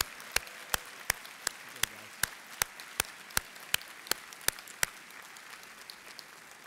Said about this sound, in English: Let's give all our MMAS graduates a well-deserved round of applause